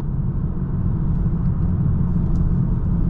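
A BMW 335d diesel sedan pulls away from a standing start with a deep, steady engine rumble heard from inside the cabin. The drone stays strong and even, with no talking.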